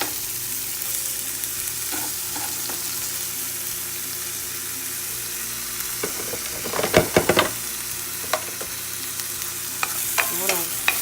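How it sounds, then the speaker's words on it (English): Onions sautéing in hot oil in a pan, a steady sizzle broken by a few louder clattering stirs and scrapes around the middle and near the end. "I have my oil that's nice and hot, and I'm just gonna add in my onions"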